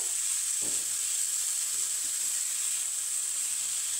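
A cauliflower mixture fries in a pan with a steady, even sizzling hiss that stays constant throughout, with a faint soft clatter near the start and no voices.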